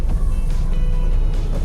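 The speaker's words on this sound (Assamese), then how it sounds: "এই গাড়ীৰ শব্দ শুনাৰ লগে লগে তেওঁ" A car engine hums as a steady, even low drone at close range, filling the short stretch without any talk over it.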